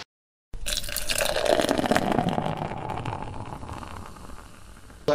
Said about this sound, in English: Let's get pouring.